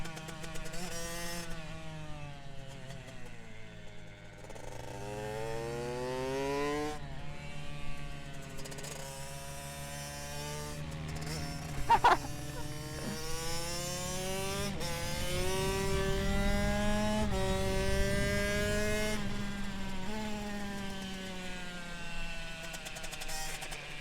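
A rebuilt Kawasaki KX65 dirt bike with a big bore kit on a warm-up lap, its two-stroke engine droning and whining steadily as it climbs and falls through the revs, with a brief sharp rise midway.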